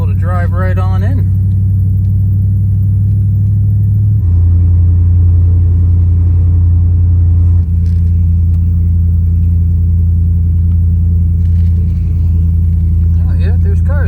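A car drives slowly in through an open entrance, a loud continuous low engine rumble filling the whole stretch, its pitch dropping and shifting as the vehicle moves, with brief talk near the start and end.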